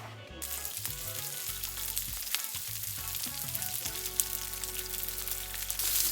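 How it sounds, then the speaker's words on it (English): A fish appetizer searing in sesame oil in a hot pan, a close, bright crackling sizzle with sharp spits and pops, running steadily and growing slightly louder toward the end. "we have a little bit of sesame oil going into a hot pan, and we are just going to sear this appetizer real quick"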